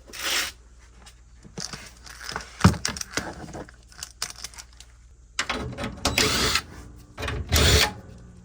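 Screws being backed out of a Whirlpool/Kenmore dryer heating element, with close, irregular bursts of scraping and clicking separated by short pauses.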